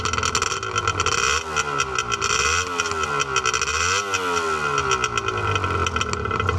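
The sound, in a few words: Rothmans 1985 Honda NS400R motorcycle exhausts revving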